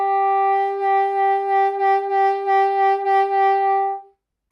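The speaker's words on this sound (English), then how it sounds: "If you find that when you add pressure, it just creates a pinched sound like this" Saxophone note played with too much pressure, giving a pinched, thin tone: one steady held note of about four seconds that wavers slightly, then stops cleanly, alone with no talk.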